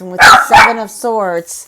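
Two sharp dog barks close by, followed by a person speaking over the end of the noise.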